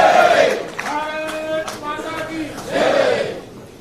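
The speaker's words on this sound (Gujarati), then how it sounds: "આપણે સૌ આપણને તાળીઓના ગગડાટથી વધારીશું" A large crowd at a Bharatiya Janata Party induction rally in Gujarat, held as a politician joins the party, raises a loud rhythmic chant of cheering voices. The chant swells, dips in the middle, then surges again, with no separate speech.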